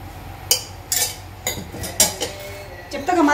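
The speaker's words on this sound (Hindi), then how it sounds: "अब मैं गैस पर रख दूंगी कढ़ाई, इसमें डालूंगी थोड़ा सा कुकिंग ऑयल" A metal kadhai set onto a gas stove and handled with utensils, giving a handful of sharp clanks and clinks spread across a few seconds, fairly close, with quieter scraping between them.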